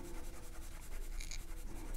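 Colored pencil lead strokes across drawing paper close up, producing a soft continuous scratching with quick repeated strokes over two seconds.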